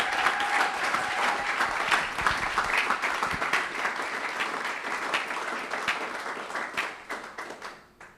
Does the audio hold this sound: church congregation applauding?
yes